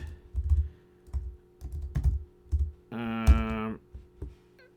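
Keys clack on a computer keyboard as a folder name is typed, a series of close, separate taps in short bursts with a brief tonal beep in between.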